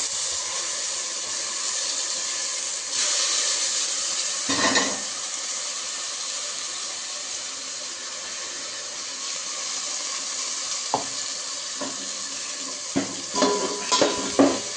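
A ground paste fries in oil in a pan for egg biryani, a continuous close sizzle broken by occasional stirring scrapes and utensil knocks toward the end.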